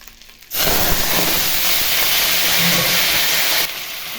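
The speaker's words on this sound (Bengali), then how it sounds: "দেখো কড়াইতে তেল দিয়ে দিচ্ছি, তেল গরম হয়ে যাচ্ছে। এখন এর মধ্যে আলুটা ঢেলে দিব।" Potatoes dropped into hot oil in a wok set off a sudden, loud, steady sizzle that holds for about three seconds before cutting out, close and with no talking.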